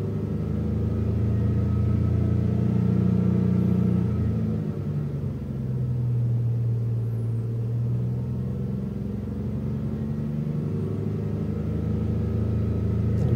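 A new Proton Saga's 1.5L I-GT four-cylinder engine idles as a steady, low, smooth rumble with a slight dip and recovery partway through, running alone throughout.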